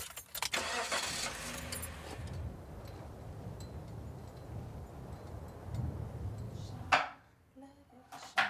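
A car engine runs while driving, a low steady rumble close by with a few sharp clunks and a burst of louder noise near the end.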